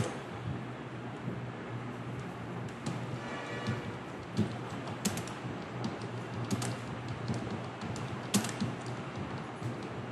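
Someone types a name in MS Word on a computer keyboard, making light, irregular key clicks over a steady background hiss, with a few sharper taps.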